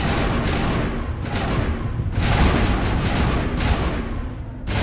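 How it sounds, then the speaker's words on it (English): Enemy gunfire in Mass Effect Legendary combat, a dense loud barrage of overlapping shots and impacts with irregular bursts and short lulls, continuous throughout. "You guys are shooting at rocks."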